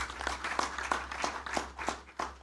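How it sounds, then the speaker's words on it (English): Sparse, faint clapping from a workshop audience rewarding the speakers, evenly spaced hand claps sounding thin and distant in a quiet room. "Let's give our speakers a round of applause."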